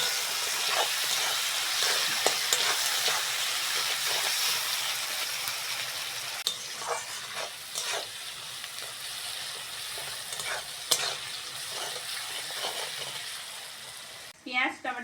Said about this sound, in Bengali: পেঁয়াজ, টমেটো, কাঁচা লঙ্কা ভালো করে ভেজে নিয়েছি।